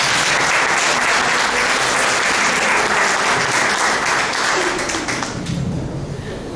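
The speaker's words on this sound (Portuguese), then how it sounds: "Uma salva de palmas para o" An audience at an evening lecture on liquid spirituality breaks into sustained, dense applause, loud and steady throughout before easing off slightly at the end.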